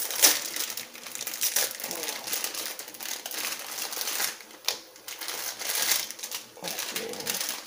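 An instant noodle packet's plastic wrapper is torn open and crinkled up close, irregular rustling bursts throughout.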